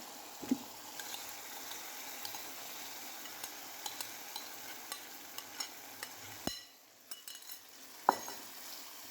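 Marinated chicken goes into a pot of tomato-based chicken biryani masala, giving a low, steady sizzle and stirring noise, with a few sharp clatters of a spoon against the pot.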